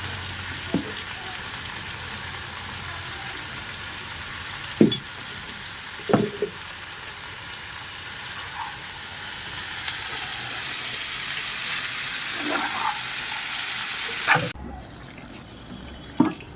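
Vegetables sizzle steadily with spices in a pan for a Bengali pumpkin prawn curry, a constant close frying hiss broken by occasional clinks and scrapes of a stirring spoon.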